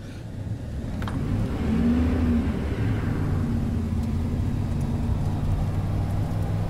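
Car engine droning steadily from inside a moving vehicle, a low continuous rumble with a brief rise in pitch near the start, no talking.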